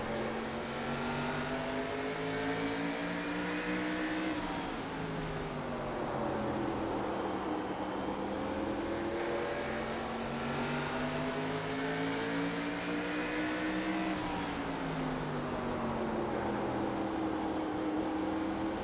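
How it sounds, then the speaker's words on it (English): K&N race car engines heard on board at Stafford Motor Speedway, a loud continuous roar with harmonic whine rising and falling through gear changes and throttle lifts, steady and close throughout. "while we're riding on board and listening to the engines"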